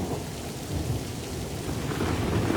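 Steady rain falling with rolling thunder, a continuous wash of downpour and low rumbling, heard alone without voices.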